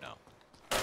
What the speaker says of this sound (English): Whoa, shots fired.